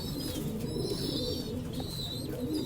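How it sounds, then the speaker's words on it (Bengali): Caged pigeons, a pair of Chinese-eyed birds, coo softly in a low, continuous murmur with a few faint higher chirps, steady and close throughout. "খাঁচায় দিলে এবার একটু ছটফট করতেছে"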